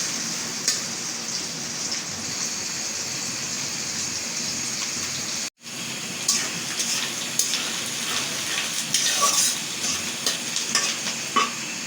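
Bay leaf and onion fry in hot oil for bhuna khichuri, giving a steady, close sizzle with stirring that cuts out for a moment and then carries on.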